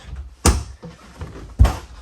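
A full-length shirt closet door inside a Brinkley Model Z 2900 RV gives two sharp knocks, one near the start and one about a second later, each a short bump of the door or latch, with quiet in between.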